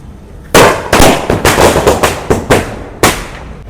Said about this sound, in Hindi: ये देखो भाई मिर्ची पटाखे की लड़ी